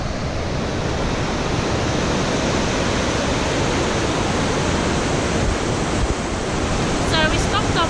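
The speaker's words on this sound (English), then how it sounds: "I don't know if you guys can hear that water roaring" Roaring river water in the Hooker Valley, New Zealand: a steady, dense broadband rush fills the whole stretch without pause, loud and close, with a few faint higher chirps near the end.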